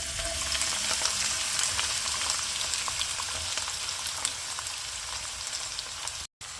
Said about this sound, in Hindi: जैसे हमारा ऑयल गर्म होगा उसमें प्याज डाल देंगे